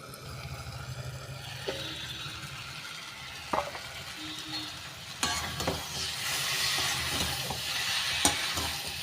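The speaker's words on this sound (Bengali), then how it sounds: "মশলাটা আশা করি ভাজা হয়ে গেছে" Spice paste sizzles and crackles in a pan, with a few sharp clinks of a utensil and a rising hiss as it's stirred; no talking.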